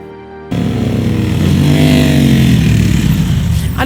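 A motorcycle engine starts up suddenly after a quiet moment and runs loud and close, a throaty steady idle with a slight rise in revs before settling.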